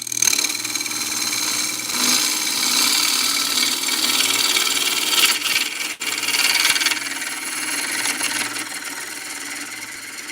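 Bowl gouge cutting into a wooden bowl spinning on a lathe, a continuous bright scraping hiss with slight variations in intensity and a brief catch near the middle.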